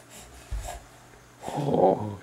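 A small child imitates snoring with a couple of breathy, snorting bursts, one short and one longer, close and fairly quiet with no other talk.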